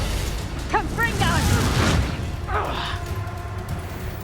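Explosive Confringo spell blasts in Hogwarts Legacy gameplay, a few booming bursts with fiery crackle close up over a steady game soundtrack, with a voice calling out briefly.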